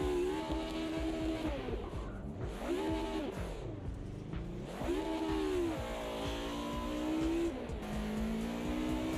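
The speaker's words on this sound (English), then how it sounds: "you can hear the lift-off crackle from the exhaust from inside the car" A race car in a sim racing game heard from the cockpit, its engine rising and falling through repeated revs with exhaust crackle on lift-off, loud and continuous.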